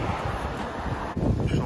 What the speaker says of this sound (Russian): ветер какой